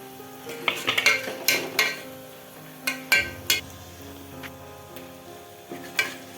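Onions fry in oil for mutton gravy with a soft steady sizzle, while a metal spoon scrapes and clinks against the pan in irregular strokes, close up.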